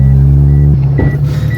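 A Honda B18 engine in an EF wagon pulls hard on a test drive, a loud, steady, close drone that shifts and rises partway through the brief burst.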